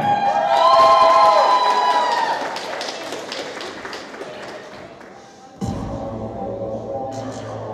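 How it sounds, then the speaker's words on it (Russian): A crowd cheers and whoops loudly at first at a cosplay show at a convention, then applause and scattered claps carry on as the noise fades, before music swells back in. "подготовьте свои аплодисменты"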